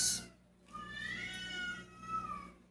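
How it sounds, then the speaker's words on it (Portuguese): Cats fighting outdoors: a faint swell of drawn-out, wavering yowls rises and falls through a couple of seconds against a quiet background. "Os gatos brigando lá fora."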